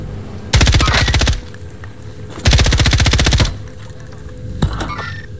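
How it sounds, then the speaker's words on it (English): Loud bursts of automatic gunfire from the video game Call of Duty Warzone, three sustained rapid volleys with short gaps between them, the last one briefer, with no talking over them. "And then they shooting from the other side too."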